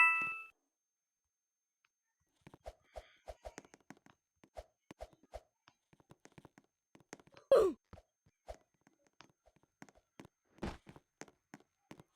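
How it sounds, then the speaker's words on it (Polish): A notification ding from a tablet rings out once, clear and fairly close, amid scattered quiet taps and small clicks in an otherwise still room. "Przyszło mi powiadomienie. na tablecie jakieś"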